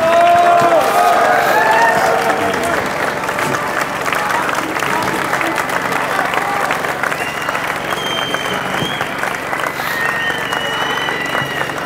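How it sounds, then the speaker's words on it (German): An audience at the University of Vienna applauds a speaker with sustained, dense clapping and some cheering. The applause is loud and continuous at first, then eases slightly while staying steady to the end. "herzlichen Dank für den Applaus"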